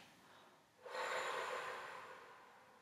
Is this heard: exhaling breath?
yes